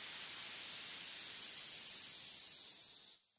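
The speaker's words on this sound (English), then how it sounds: "I've got a white noise sweep." A bright white noise sweep rises and swells in hiss, holds, then cuts off abruptly, a synthetic build-up effect with nothing else playing.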